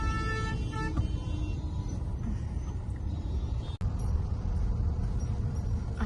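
Heavy road traffic jam on a single-lane road under construction near Chakan toward Pune, with steady engine rumble and car horns honking repeatedly nearby, one sharp pause near the middle, no talk.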